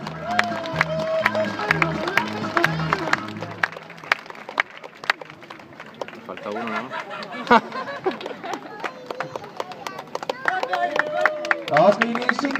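A crowd at an outdoor car show on Aker Brygger in Oslo gives sustained, moderately loud applause with scattered sharp individual claps, while people talk and call out over it throughout.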